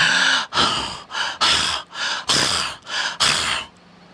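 A voice imitates a galloping horse's heavy breathing with about eight loud, rhythmic panting gasps in quick succession, close and clear, then stops.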